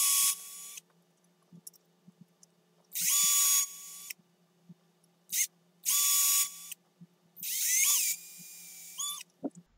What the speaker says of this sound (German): Wenn wir das hier gebohrt haben